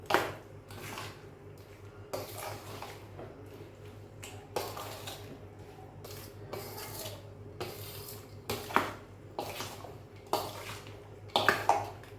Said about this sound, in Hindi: अब हम इसको मिक्स कर लेना अच्छी तरह से।